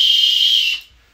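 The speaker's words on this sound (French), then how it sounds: "vous avez un sifflet offert, un sifflet d'arbitre" A referee's whistle gives a single sustained shrill blast lasting under a second, loud and close, then cuts off into near silence.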